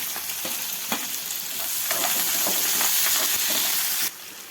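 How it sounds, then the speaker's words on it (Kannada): Onions frying in oil with chana dal, urad dal, curry leaves and green chillies for upma tempering, a loud continuous sizzle with occasional stirring scrapes that drops away abruptly near the end. "ಉಳ್ಳಾಗಡ್ಡಿನ ಸ್ವಲ್ಪ ಕೆಂಪು ಆಗುವಂಗೆ ಫ್ರೈ ಮಾಡ್ಕೋಬೇಕು"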